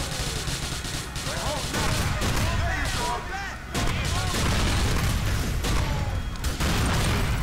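Dense, constant bursts of gunfire and booming explosions from the video game The Ballad of Gay Tony fill the whole stretch, loud and chaotic with overlapping blasts and crashes and no pause.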